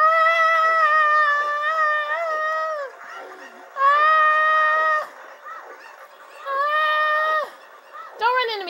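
Cartoonish chicken clucks and squawks in repeated bursts with short pauses between, loud and close, with a voice briefly in the gaps.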